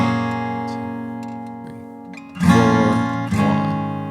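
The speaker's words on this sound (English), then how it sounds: "When you can do just one strum per chord, that would probably be sufficient. So that would sound like this." Acoustic guitar playing the intro of Holy Forever with a single strum per chord: a sustained ringing chord, then two louder, close strums near the end, played alone without talk.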